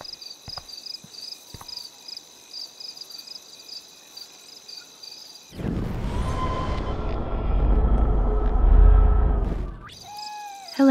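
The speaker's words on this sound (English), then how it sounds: "Oh, the most magical insects." Insects chirp in the Life is Strange video game, a steady high, pulsing trill heard faintly at first, interrupted by a loud low rumbling swell in the middle before the chirping returns.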